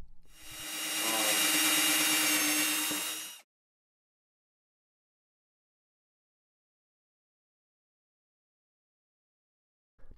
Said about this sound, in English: let's go overkill here and screw the PVC into place